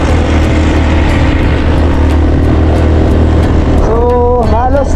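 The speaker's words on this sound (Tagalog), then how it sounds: "So halos nagireklamo na ang motor namin kasi sa taas ng kalsada dito" A motorcycle engine labors loudly up a steep road in Minalabac, Camarines Sur, holding a heavy, steady drone close by before its pitch wavers and climbs near the end.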